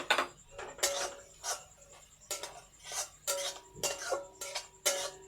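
Raw mango with spices and a mustard-seed tempering stirred in a frying pan, heard as a series of close, distinct clinks and scrapes of a utensil in an uneven rhythm over a quiet background.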